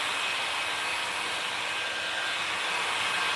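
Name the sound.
heat gun heating window tint film on rear glass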